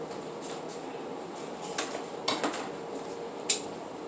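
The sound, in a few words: rummaging through cutlery to grab a knife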